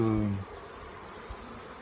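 Honey bees drone steadily at an opened hive of a weak colony, a low continuous hum that carries through after a short voiced tone at the start.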